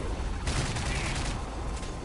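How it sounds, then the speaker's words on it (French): A bomb explodes in a video game's R&D mode, a sudden loud blast that bursts in after a brief quieter moment and trails off in a noisy, crackling rumble over about a second and a half. "on va se laisser donc sur une bombe qui explose dans les noirs"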